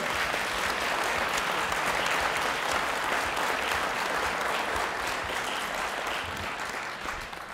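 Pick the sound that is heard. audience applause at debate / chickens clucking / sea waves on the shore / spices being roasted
audience applause at debate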